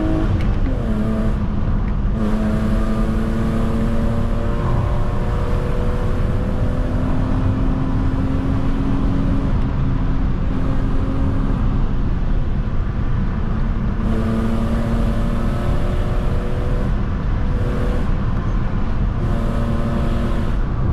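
A BMW E36 320i Coupe engine pulls at full throttle on a curvy track road, loud and close, its pitch climbing through revs with brief drops between gear changes.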